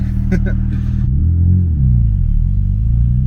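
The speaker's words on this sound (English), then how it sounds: "The engine revs really happy" A right-hand-drive Mazda RX-7 FD with its stock turbo rotary engine revs while being driven, giving a loud, steady low drone that swells and bends in pitch. A brief voice is heard near the start.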